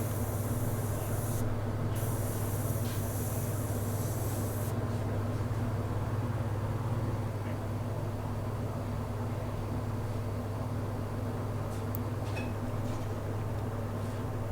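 Spray paint hissing steadily onto a pheasant taxidermy mount, a continuous soft spray under a low constant hum, with a brighter burst of hiss early on, no talking.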